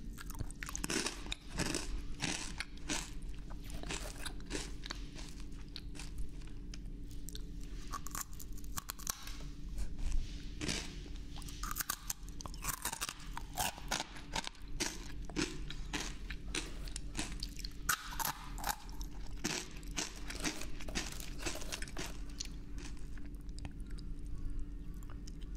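Close-miked ASMR eating: continuous crisp bites, crunches and wet chewing in a dense, steady rhythm, with no talking.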